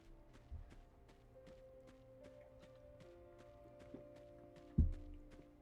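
A horse in the video game Virtuverse clip-clops in a steady, evenly spaced stream of light hoofbeats, faint and moderately distant, with one heavier thump near the end.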